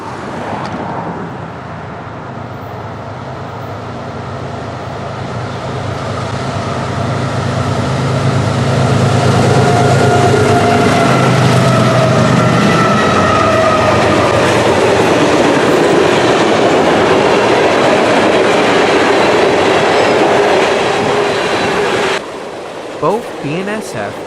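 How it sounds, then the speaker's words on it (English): A long eastbound BNSF freight train led by GE ES44C4 and ES44DC diesel locomotives rumbles past, with engine drone swelling and then giving way to a steady, loud wheel clatter as the cars roll by. "The train we saw was an eastbound BNSF freight train, led by BNSF 6792, CSX 5296, and BNSF"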